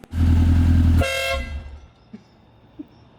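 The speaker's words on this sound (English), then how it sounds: "when you honk the horn, the car shuts off" A single loud Lotus car horn blast lasting about a second, followed by the engine dying away and a couple of faint clicks; a fault makes honking shut the car off.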